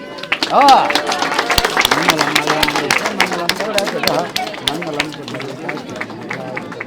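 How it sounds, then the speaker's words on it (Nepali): A small group in Nepal claps at an orphanage farewell ceremony, brisk uneven hand claps mixed with children's chatter and voices close by. "ल ताली"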